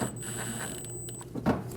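A ratchet snugs down a screw on a Scion xB front fender liner, with close, quick mechanical clicking and grinding under a steady high whine, plus a sharper clunk near the end.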